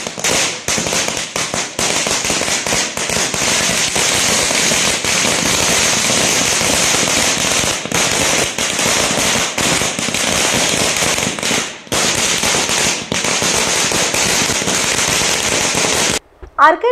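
Diwali firecrackers burst in a dense, continuous barrage of loud crackling and popping, with rapid overlapping explosions that barely pause before a brief drop near the end.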